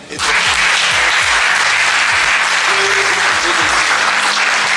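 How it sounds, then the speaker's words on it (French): Audience at a celebration at the Lourdes sanctuary breaks into loud, dense applause that starts abruptly and holds steady, with some low voices murmuring beneath the clapping. "On peut les acclamer."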